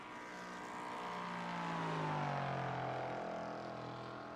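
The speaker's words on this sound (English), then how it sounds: "That motor sounds very tired if you listen to the high-speed revs." A tired LMP3 prototype race car engine in a racing video game at Daytona road course, a steady high-revving drone that swells and fades as it passes, heard alone.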